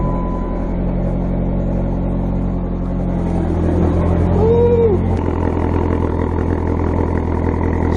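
A car engine hums steadily up close, rising in pitch as it accelerates, with a continuous rumble throughout.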